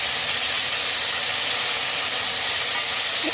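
Broccoli and mixed vegetables stir-fried over a high flame give off a loud, steady sizzling hiss, dense and unbroken throughout, close to the pan with no talking.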